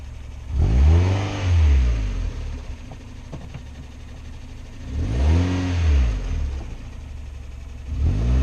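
Classic car engine revving in repeated bursts as it is driven, each rise and fall of the motor loud and near, separated by quieter idling stretches.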